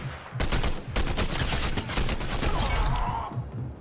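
Rapid video game gunfire in Fortnite, dense bursts of shots fired at opponents with sharp cracks in quick succession, loud and close, easing off at the end.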